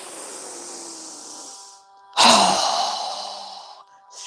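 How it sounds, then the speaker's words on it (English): Forceful breath through the nose or mouth during yoga breathing, a soft inhale followed by a sharp, loud, airy exhale that trails off, close and alone. "Strong exhale."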